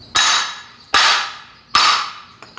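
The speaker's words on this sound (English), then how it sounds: "flip it upside down, grab a hammer, and just whack these very hard" Three loud, evenly spaced hammer whacks strike upside-down mortar shell rack tubes on a hard surface, each a sharp bang with a ringing decay, followed by a faint small knock.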